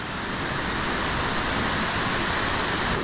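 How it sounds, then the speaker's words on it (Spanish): Waterfall at El Salto Curet in Maricao, Puerto Rico, a steady, close roar of rushing water that fills the whole clip without any break or voices. "Miren la cascada"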